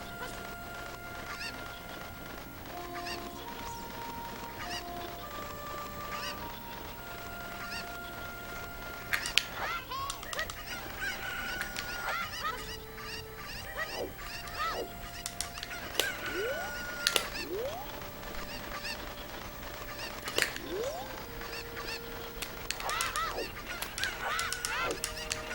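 Chickens cluck and squawk in Zelda: Ocarina of Time, a steady stream of game bird calls over background music and ambience, with occasional sharper cries.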